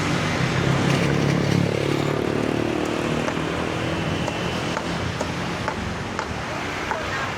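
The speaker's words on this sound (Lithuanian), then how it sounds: "Va, tiesiog su motociklu sustoja" Motorcycles idle and rumble close by amid the busy roar of an evening street food market in Bangkok, with traffic noise, crowd bustle and voices blending into a dense, continuous wash.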